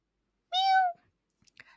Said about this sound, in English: I sent you a meow yesterday.